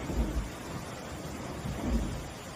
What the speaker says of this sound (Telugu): ఫుల్ పడుతుందండి వర్షం అయితే